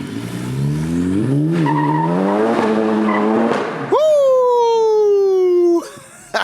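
A front-wheel-drive car with a stage 3 hybrid turbo pulls away loudly, its engine rising in pitch as it accelerates, then a second sharper high-revving surge holds steady before cutting off.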